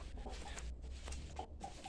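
A seven-month-old rooster clucks in short, soft bursts amid steady farmyard background noise, close by but quiet.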